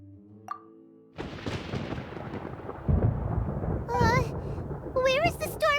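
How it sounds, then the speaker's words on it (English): Thunder rumbles in Genshin Impact, a broad low roll building after a short quiet and continuing under game character voices that speak over it. "Paimon hears thunder!"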